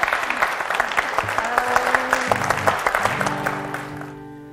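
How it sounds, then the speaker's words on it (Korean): A church congregation applauds with dense, steady clapping throughout, while a sustained keyboard or organ chord enters partway through and rings beneath the clapping as it fades toward the end. "박수를 한번"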